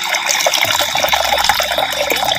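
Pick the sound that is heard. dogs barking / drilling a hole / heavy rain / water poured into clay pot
water poured into clay pot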